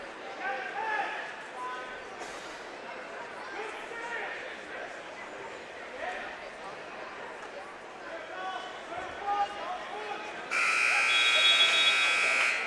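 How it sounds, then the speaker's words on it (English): A loud, steady electronic buzzer sounds in a gym at a high school wrestling match, blaring alone for about two seconds at the end after a stretch of crowd murmur and distant chatter. "There's your buzzer"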